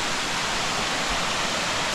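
Steady broadband rush of a waterfall beside a hiking trail in Tambach-Dietharz, Germany, close and continuous, filling the whole stretch evenly with no voices over it.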